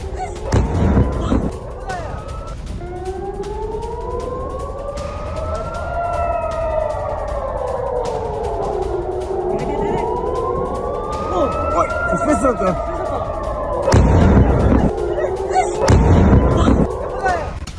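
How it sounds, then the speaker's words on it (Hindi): Wailing city alert sirens rise and fall in long sweeping tones, with heavy booms bursting in near the start and end. "शहर में सुनी गई हैं अलर्ट सायरन की आवाजें।"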